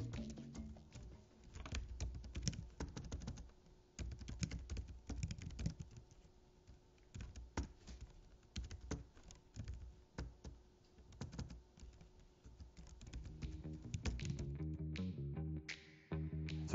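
Typing on a compact mobile keyboard for an iPad Pro, with rapid, uneven clusters of light plastic key clicks close up, continuous with brief pauses and no voices.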